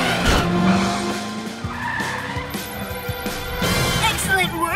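A cartoon cat car skids away in an animated show, with a loud tire squeal and revving motor, scattered clanks and whooshing effects, and a character's voice briefly heard over the sound effects.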